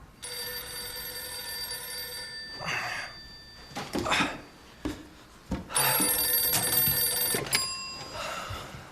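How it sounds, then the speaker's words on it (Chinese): An old-fashioned telephone bell rings in long metallic bursts separated by short pauses, moderately loud in a quiet room, with faint rustling and thuds between the rings. "有电话。"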